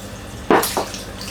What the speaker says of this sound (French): moi je mets du vin blanc